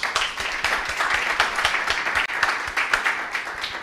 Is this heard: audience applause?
yes